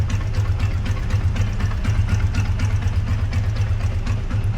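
Motorcycle engine idling just after being started, a loud steady low rumble with a fast even pulsing throb, close by and without talk.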